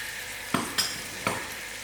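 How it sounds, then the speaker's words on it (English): Tomatoes hit hot oil in a pan of potato masala, frying with a soft steady sizzle and three sharp bursts of spatter and stirring, close and moderately loud. "So I'm adding in my tomatoes."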